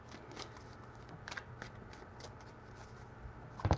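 Tarot cards being shuffled by hand in a quiet room, a soft continuous riffling with small slaps and a sharper flurry at the end, close and fairly faint with no talking.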